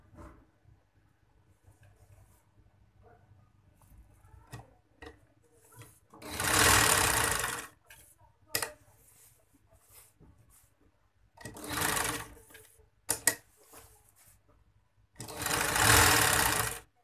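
A sewing machine stitching the slit of a kameez runs in three loud, steady bursts of rapid whirring, with quiet handling clicks and rustling of fabric between them.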